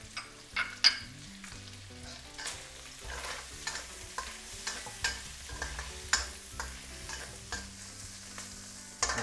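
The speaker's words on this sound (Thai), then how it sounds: "ผมจะใส่ เผือกนะครับกับตัวเห็ดหอมลงไปผัดนะครับ" Bacon, taro and shiitake mushrooms being stir-fried in a pan: a steady sizzle runs under repeated scraping stir strokes that land in an irregular rhythm, close and clear, with no voices.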